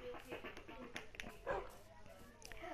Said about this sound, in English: Oh, there's another dog.